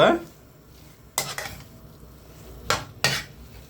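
A spoon scrapes and stirs potato samosa masala mixed with chopped coriander and mint in a pan, giving three or four separate clattering strokes against the metal with quiet gaps between them.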